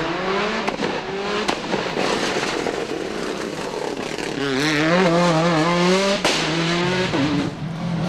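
A rally car engine roars and revs hard, tires squealing as it slides through a tight hairpin turn, loud and close, then accelerates away.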